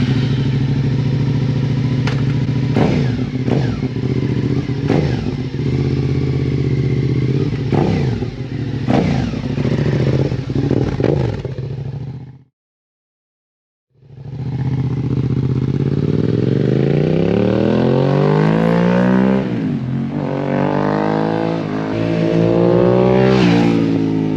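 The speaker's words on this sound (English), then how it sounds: "That's the full M4 exhaust." A 2023 Suzuki SV650 motorcycle with a full M4 exhaust and a loud, throaty sound revs hard several times, cuts out briefly, then fires back up and revs up and down again, close by.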